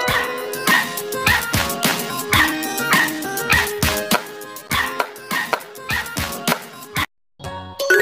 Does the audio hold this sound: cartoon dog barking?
yes